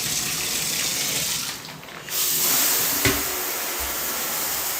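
Shower water runs steadily and fairly loud as a broad hiss, briefly dipping in the middle before resuming at full flow, with a small knock partway through.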